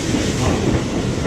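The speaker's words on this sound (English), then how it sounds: "So here's the Nakano train coming in." A Tokyo Metro train bound for Nakano pulls into the station, a loud close rumble with rhythmic wheel clatter filling the whole moment.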